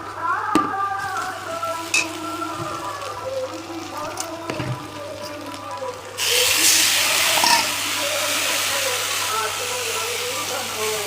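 Water splashes into a hot frying pan and sets off a sudden loud hiss that holds steady for several seconds. Before it, a voice talks over quieter cooking sounds.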